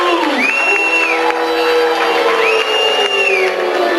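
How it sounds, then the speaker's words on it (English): Loud audience at a late-night haunted-stories show, cheering, whooping and shouting over clapping as the guest comes up, with voices calling out. "Maybe a round of applause if we can get Mr. Blake Clark up tonight"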